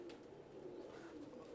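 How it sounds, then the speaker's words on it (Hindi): Soft, low cooing of pigeons, faint and close, with a muffled background hum. "बेसिकली ये डब वाले कबूतर कहलाते हैं ये वाले"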